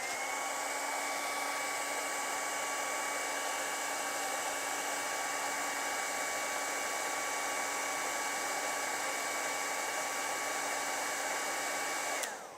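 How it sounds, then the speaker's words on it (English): A hair dryer blows steadily over charcoal drawing paper, a constant loud whir with a steady tonal hum that holds unchanged for about twelve seconds, then stops sharply. "I'm going to take a hairdryer to that because that paper is going to warp like crazy"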